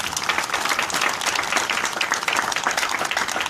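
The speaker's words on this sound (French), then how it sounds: "Acclame pour Jésus." A church crowd at an evangelistic crusade applauds for Jesus, dense continuous clapping from many hands, loud and close, with no pauses.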